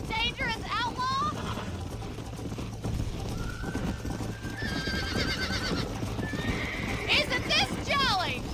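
A horse in Red Dead Redemption whinnies loudly at the start and again near the end, while steady hoofbeats clip-clop throughout and a voice talks over the ride.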